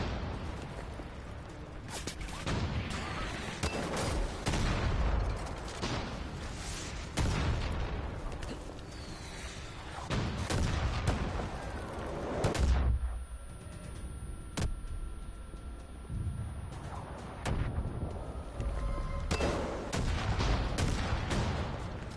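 Enemy gunfire in Far Cry 5 rattles in dense bursts with booming shots and explosions, loud and continuous with brief lulls between volleys.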